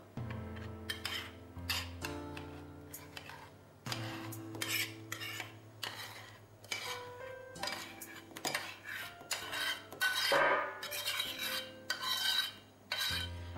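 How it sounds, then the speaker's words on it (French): A spatula works chocolate-butter mixture into moist cake batter in a bowl, with continuous scraping, clinking and rubbing strokes in an irregular rhythm, close and fairly loud, with no talk. "à l'aide d'une spatule, mélangez bien le tout en faisant bien amalgamer le chocolat à la préparation"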